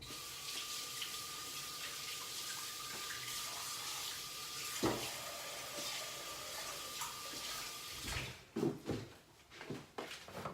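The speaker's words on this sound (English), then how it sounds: "Let me wash my hand." Hands washed under a running kitchen tap after shaping meatloaf: a steady stream of water splashing close by, then broken, uneven splashes and rubbing as the hands move through it at the end.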